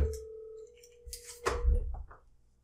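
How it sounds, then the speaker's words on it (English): An office desk phone rings during a SonicWall SD-WAN VoIP call demonstration, a steady electronic tone followed by a burst of louder ringing and handset noise. "head office phone is ringing"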